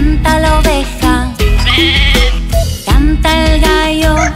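Sheep bleats sound within a children's farm-animal song, repeated wavering cries over bouncy backing music with short gaps between phrases.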